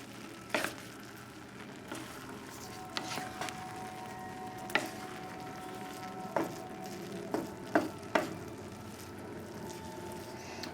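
Basmati rice simmering in milk over a low flame, a soft continuous bubbling hiss broken by scattered scraping stir strokes of a spoon against the pot, close and fairly quiet, with no one speaking.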